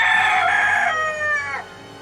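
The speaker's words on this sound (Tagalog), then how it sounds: "Ayaw mo tigilan ng manok." A rooster crows once, loud and close, a long harmonic call that trails off and cuts out after about a second and a half. Nobody is speaking.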